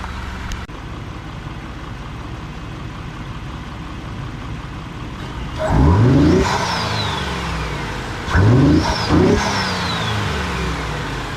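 A truck engine idles steadily, then revs up twice in strong bursts, the rising engine roar joined by a high turbo whine that sweeps down as it settles.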